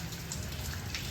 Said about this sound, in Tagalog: Yan, umuulan na.